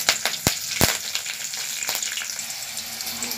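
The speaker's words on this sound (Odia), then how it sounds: "ଏବେ ଆମେ କଞ୍ଚା ଲଙ୍କା ଭୁଷଙ୍ଗ ପତ୍ର ଦେଇଦେବା" Green chillies and curry leaves hit hot oil with a sharp crackle and a few loud pops at the start, then settle into a steady close sizzle, with no one speaking.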